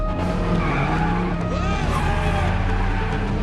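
A police car chase in a Transformers film scene, with loud tire skidding and squealing over revving car engines, dense and continuous throughout, with a faint voice mixed in.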